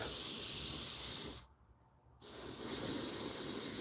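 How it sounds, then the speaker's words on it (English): A loud, steady hiss of compressed air from a spray gun painting fishing lures cuts out briefly, leaving near silence, then resumes with an air compressor drone underneath. "Hopefully y'all can hear me all right over the noise of my air compressor and the air gun"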